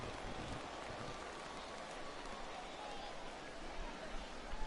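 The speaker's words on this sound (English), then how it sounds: "the rain starting to intensify here. It's coming down a little heavier now" Heavy rain pours steadily at a baseball game, a dense continuous hiss with crowd murmur and talk underneath.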